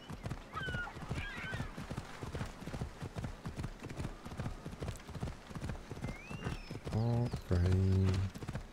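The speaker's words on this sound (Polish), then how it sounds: "Możemy konia wziąć i tu zjechać." Horse hooves clip-clop in a quick, steady rhythm in Assassin's Creed Odyssey, close and clear, followed near the end by a loud horse whinny.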